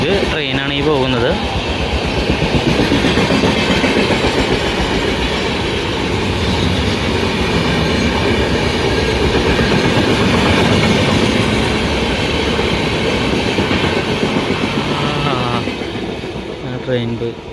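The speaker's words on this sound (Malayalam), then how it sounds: "ഇതിപ്പോൾ ഒരു ട്രെയിൻ വരുന്നുണ്ട്." A long-distance Lokmanya Tilak–Thiruvananthapuram express runs through a railway station platform without stopping. A loud, steady roar of wheels and clattering carriages fills the whole stretch, close by, before easing slightly at the end.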